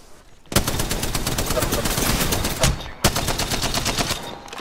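Rapid automatic gunfire in the video game Apex Legends, loud close bursts of quick repeated shots filling several seconds, briefly pausing then resuming, with a voice faintly under the shooting.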